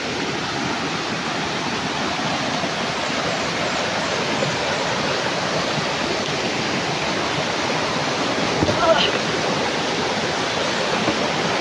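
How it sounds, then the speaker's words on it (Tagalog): A flowing creek pours along steadily, a dense rushing hiss of water that stays constant and close throughout, with no voices over it. "Ito, mga lods na ito yung sinasabi ni Idol SG noon na may sapa"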